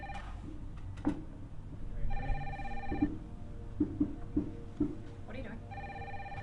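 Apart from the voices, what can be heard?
telephone ringing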